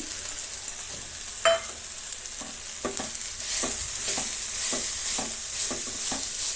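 Grated radish fries in a pan while being stirred, a steady soft sizzle broken by a series of regular scraping strokes of the spatula, close and moderately quiet.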